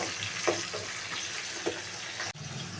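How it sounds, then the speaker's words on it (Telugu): Tindora (ivy gourd) fries in a pan over a medium-high flame with a constant hissing sizzle, broken by a couple of faint clinks and a brief knock near the end. "ఈ విధంగా మీడియం టు హై ఫ్లేమ్ పెట్టుకొని దొండకాయ అనేది ఫ్రై చేసుకోవాలి"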